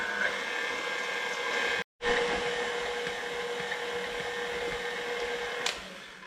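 A stand mixer with a whisk attachment mixes in flour, its motor giving off a steady, loud, whooshing hum. The sound stops for a moment, then carries on evenly before easing slightly at the end.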